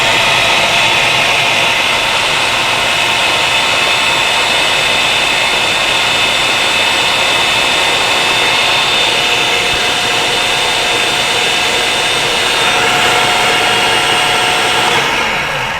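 A blender whirs through tomato bisque soup, running as a steady loud motor whine with a high tonal hum that holds the whole time and cuts out right at the end, with no talking.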